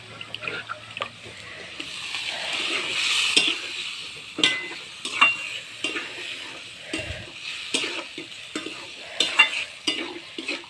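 Chicken pieces from a young bird go into a pan for a thin curry and fry, giving a steady sizzle broken by repeated scraping stirs and clatters at an uneven rhythm, with no talk.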